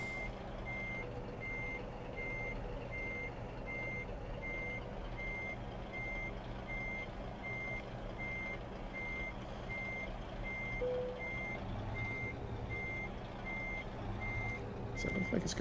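In American Truck Simulator a truck's reversing beeper sounds a steady, evenly spaced series of beeps over a continuous engine rumble, ending with a few clunks and no voices.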